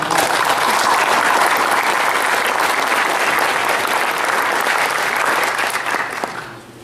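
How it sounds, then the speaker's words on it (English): An audience applauds the Board of Governors with loud, sustained clapping from a full room, holding steady for several seconds before tapering off at the end. "a round of applause for our Board of Governors"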